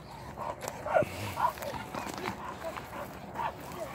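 A Kangal dog and other dogs bark in short, excited bursts at a moderate distance, with people talking over them outdoors and footsteps in the background.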